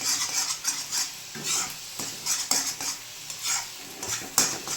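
Egg bhurji stirred and fried in a pan, with a spatula scraping and clinking against metal in irregular bursts over a light, steady sizzle, close and moderately loud.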